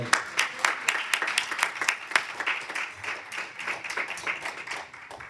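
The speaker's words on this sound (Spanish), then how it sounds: "Denle un aplauso al Señor" A church congregation applauds, with many hands clapping in a fairly quick, uneven patter that swells and dips, heard at moderate distance with a few voices underneath.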